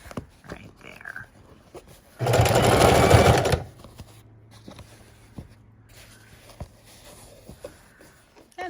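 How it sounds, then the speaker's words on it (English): Sewing machine zigzag-stitching fabric for a junk journal cover runs in one steady burst of about a second and a half, close and loud, with quiet handling sounds around it and a voice speaking before and after. "we're going to cut that and sew up the rest"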